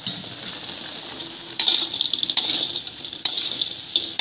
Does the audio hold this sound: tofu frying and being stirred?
yes